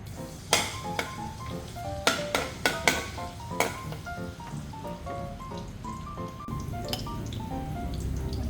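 Garlic sizzling in hot cooking oil in a pan while braised pork belly in chili bean sauce is prepared, with a steady crackling fry, sharp popping drips and some clinks of a utensil, heard near and alone.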